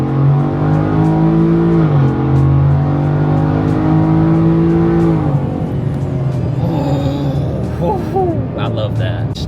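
A Ford F-150 single cab with a new exhaust revs hard, a loud droning engine note rising and falling while the wheels spin, then settling into a lower rumble as chirping tire squeals come through.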